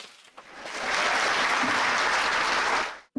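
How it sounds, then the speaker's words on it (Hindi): A room of people gives a loud, sustained round of applause welcoming a student who passed a civil services exam on the first attempt, swelling quickly and holding steady before cutting off abruptly at the end. "जोरदार तालियों से स्वागत करिए।"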